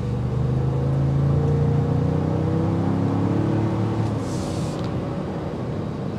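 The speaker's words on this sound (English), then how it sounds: "So you will hear the exhaust note filter in." A 2023 Ford Expedition Timberline SUV engine drones and rises in pitch as it accelerates, a steady low exhaust hum heard from inside, slowly easing off toward the end.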